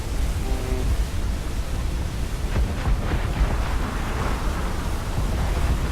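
Giant ocean wave in Assassin's Creed IV Black Flag, a broad, continuous roar of rushing water and wind that stays loud and steady throughout.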